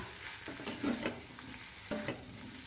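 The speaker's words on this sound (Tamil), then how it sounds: "தூவிட்டு ஒரு கிளறு கிளறிக்கலாம்" A spoon scrapes and clatters through tapioca masala stir fry in a pan, with a few distinct stirring knocks over a soft, continuous sizzle.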